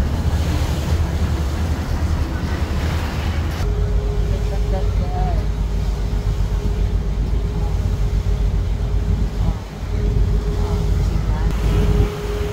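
Boat engine and choppy water during a Bangkok river cruise to Asiatique, a loud, continuous rumble and wash mixed with wind buffeting the microphone, with people talking over it.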